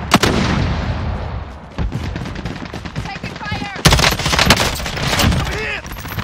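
Loud, sustained gunfire from Call of Duty Warzone, with repeated rapid bursts and heavy blasts layered into a continuous battlefield din, with in-game radio voices speaking over it.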